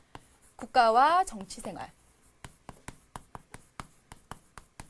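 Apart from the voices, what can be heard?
writing on a board during a lecture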